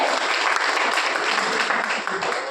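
A crowd claps steadily and loudly, a dense wash of applause that holds for the whole stretch.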